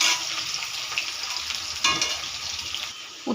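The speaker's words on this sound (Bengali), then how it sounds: "উচ্ছেটা একটু লাল লাল করে ভেজে নেব।" Bitter gourd frying in hot mustard oil in a pan, a steady dense sizzle with crackling bursts and occasional stirring, close and loud with no talk.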